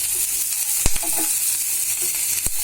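Mashed rui fish fries in a pan with a steady, soft hiss, broken by a few sharp clicks and scrapes from stirring spaced out across the stretch.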